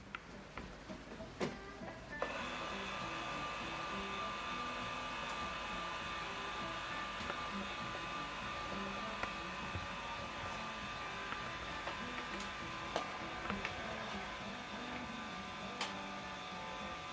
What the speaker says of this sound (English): You can see scanning using ADF.